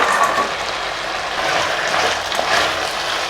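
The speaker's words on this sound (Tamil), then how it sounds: "எல்லாத்தையும் சேர்த்து வதக்கிப்போம்." Fried idli pieces sautéed in a pan with vegetables and tomato sauce give a steady, moderately loud sizzle with light stirring, close by and with no talking.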